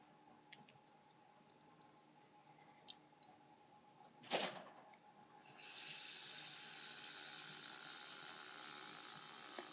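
A coffee press plunger is pushed slowly down onto wet coffee grounds. After a few light clicks and a dull thump, it lets out a steady, loud airy hiss that continues to the end.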